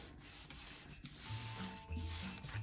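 Paper being rubbed and smoothed flat by hand while glued down from the middle outward, a steady close dry rubbing and sliding that continues throughout with small rasping shifts.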